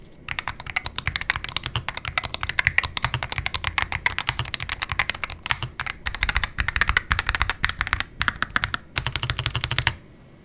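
Rapid, steady typing on a heavy, solid Monsgeek M1W-SP HE wireless rapid-trigger gaming keyboard, with dense clacky keystrokes running close and loud for about ten seconds before stopping.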